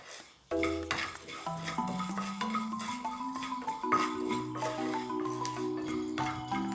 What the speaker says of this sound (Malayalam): ഇത്രയും നമുക്ക് റോസ്റ്റ് ചെയ്തെടുക്കാം. മീഡിയം ഫ്ലെയിമിലിട്ട് റോസ്റ്റ് ചെയ്യാം.